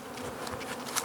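Caucasian honeybees hum steadily around a breeder hive, a continuous close buzz with slight swells in loudness and no voices.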